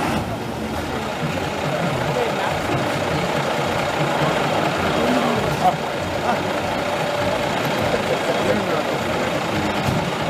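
A vintage fire engine's motor rumbles steadily and loudly from start to finish at a classic car rally, with voices underneath.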